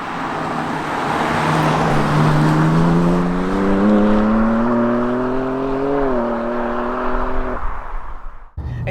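A BMW M2 (G87) engine revs up steadily in a rising exhaust drone, loud and close, then cuts off abruptly near the end.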